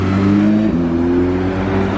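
Porsche 911 GT3 RS supercar cruises past on a Monaco street, a steady close engine drone with a slight tone dip midway, loud and alone with no talk.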